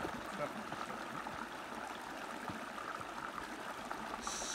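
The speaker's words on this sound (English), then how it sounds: "this is probably like the termination point of that Feldspar Brook" A small mountain brook, Feldspar Brook in the Adirondacks near Mt. Marcy, flows with a steady, soft rushing and gurgling of water, continuous and moderately faint throughout.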